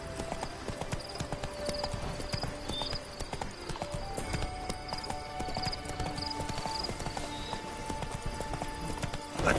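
Roach the horse galloping in The Witcher 3, a steady run of hoofbeats over a busy game soundscape with occasional whinnies, continuous and fairly loud throughout.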